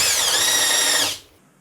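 A power drill bores into metal on a Classic Mini undergoing a Nissan Micra K11 1.4 16v engine conversion, a loud, close, steady whine for about a second before spinning down and stopping.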